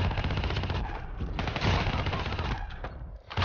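Rapid machine gun fire from the video game Black Ops 3 rattles in dense, sustained bursts, loud and continuous, with a brief lull near the end before firing resumes.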